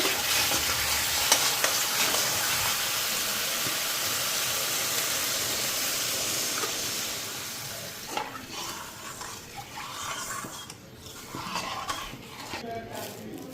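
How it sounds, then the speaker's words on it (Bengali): Spices frying in a pan give a loud, steady, close sizzle for several seconds, which then eases into quieter frying with scattered utensil clatter and knocks. "ওইদিকে মশলাও ভাজা হয়ে গেছে"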